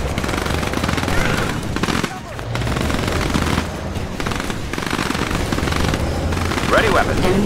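Sustained automatic gunfire and scattered blasts in a combat video game set around an assault on the White House, loud and continuous across the whole stretch, with game voices and radio-style callouts mixed in.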